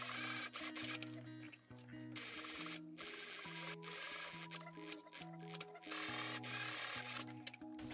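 A sewing machine top-stitches a denim skirt pocket, running in short repeated bursts with brief pauses between stitching runs, close and moderately quiet.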